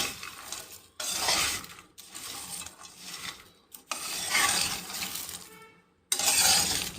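A single hand mixes a homemade masala chili powder of chilies, cumin, coriander and fenugreek into food, giving rough rubbing and stirring bursts split by brief silent pauses.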